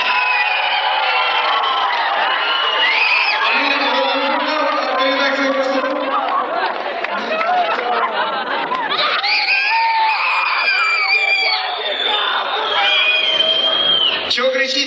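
A crowd at a 1997 rock festival concert in Khabarovsk shouts and cheers continuously, a dense loud mass of voices with whistles and screams and some individual yells standing out.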